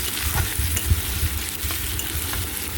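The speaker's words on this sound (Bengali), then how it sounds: "পেঁয়াজটা দিয়ে একটু লাল লাল করে আমি" Chopped onions fry and sizzle in hot oil in a pan after the spices are tempered, a steady crackling hiss broken by soft scraping stirs and low clunks of a spatula against the pan.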